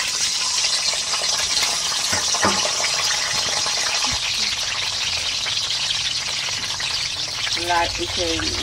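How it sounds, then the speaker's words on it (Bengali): Eggs fry lightly in a pan for Bengali egg korma, giving a steady, close sizzle throughout with a few soft clinks and stirring touches. "হালকা ভাজবে ডিমটা, বেশি ভাজলে শক্ত হয়ে যাবে"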